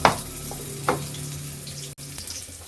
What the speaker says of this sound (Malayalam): ഇത്തിരി കൂടി വെള്ളം ചേർക്കാം